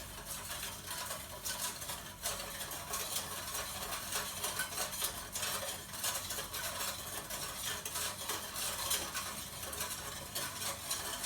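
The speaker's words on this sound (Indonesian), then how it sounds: "Oke, sekarang kita akan memasukkan gula. Oke, sambil diaduk." Sugar is stirred into milk in a pot for homemade yogurt, giving a soft, continuous scraping and swirling that stays faint and close.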